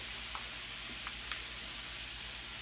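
Stir-fried food with pea shoots sizzles faintly in a pan, a steady soft hiss with a few small pops and scraping stirs, and no talk.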